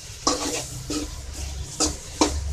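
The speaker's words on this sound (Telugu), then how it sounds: "ఇలా కొంచెం మసాలా అంతా డ్రై అయ్యే విధంగా మనం ఫ్రై చేసుకుందాము" Chicken gizzards fried dry with masala in a pan, a steady sizzle broken by four crisp spatula scrapes against the metal at uneven intervals, close and fairly loud, no voices.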